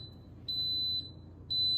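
An electric pressure cooker gives shrill, piercing beeps, two half-second tones separated by a short gap, loud and close over a faint kitchen hum.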